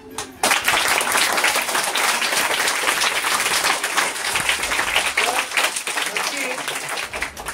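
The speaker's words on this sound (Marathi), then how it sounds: "तुम्ही सर्वांनी हात वर करायचा आणि जोर जोर टाळी त्यांच्यासाठी वाजा" Loud, sustained applause from a large audience at a free health camp and Diwali distribution event, honoring the teachers and staff, with dense clapping continuing steadily throughout after a brief quiet start.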